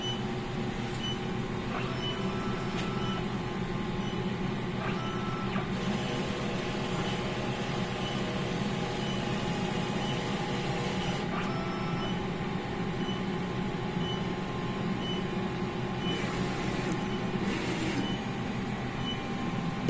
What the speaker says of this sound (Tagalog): Next naman po is check po natin yung nozzle check ng machine.